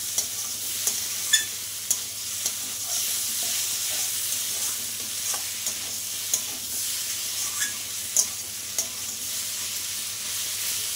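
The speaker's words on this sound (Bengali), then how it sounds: "এটা কিন্তু আস্তে আস্তে এইভাবে নেড়ে নেড়ে কিন্তু টানিয়ে নিতে হবে।" Elephant foot yam stalks fry in a pan and are stirred slowly, a steady sizzle broken by repeated light clicks and scrapes of a spatula every second or so, close and alone.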